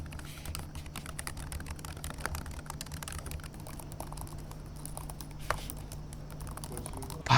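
Quick, light key clicks tap out a steady typing rhythm on an LG Gram Pro laptop keyboard, close up and fairly quiet against a low background hum.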